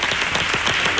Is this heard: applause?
yes